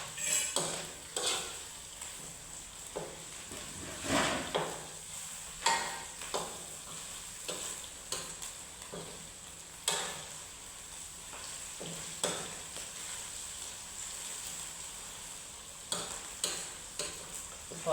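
Beef pieces deep-frying in oil, a steady crackling sizzle with intermittent clinks of utensils stirring and tapping the pan, close and moderately loud without any talking.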